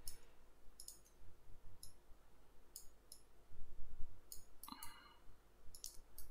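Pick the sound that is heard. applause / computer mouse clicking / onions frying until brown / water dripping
computer mouse clicking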